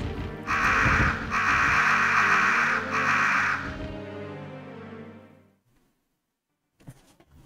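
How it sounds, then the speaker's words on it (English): Crows in the Resident Evil 1 video game give loud, harsh cawing in a dense cluster of repeated bursts, then the racket fades into near silence with a faint sound at the very end. "I actually just died to some crows."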